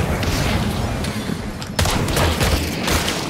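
Rapid bursts of gunfire from the game Hunt Showdown crackle loudly and densely, with a sharp fresh volley partway through and a muffled voice underneath.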